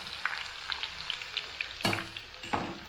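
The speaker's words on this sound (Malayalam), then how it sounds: "അടുത്തത് ഇനി വെളുത്തുള്ളിയും കറിവേപ്പിലയും കൂടെ നമുക്ക് ഇതില് ഒന്ന് പൊരിച്ചെടുക്കണം" Garlic frying in hot oil with curry leaves for a homemade mixture snack: a steady, close crackling sizzle with scattered pops and two sharper bursts of spitting near the end. Nobody speaks.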